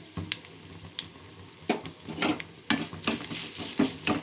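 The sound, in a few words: asafoetida added to hot oil, sizzling while making gongura dal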